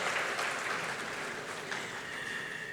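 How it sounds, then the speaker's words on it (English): A Democracy Day public lecture audience gives a sustained round of applause, a dense, steady wash of clapping heard from within the hall with no voices over it. "Let's give a round of applause again to the SGF."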